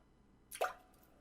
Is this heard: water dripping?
yes